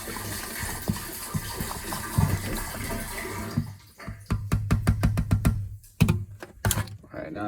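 Water spurts and gushes from a faucet at the back of a boat during winterizing of its fresh water system, a steady rushing spray that gives way to someone talking over it.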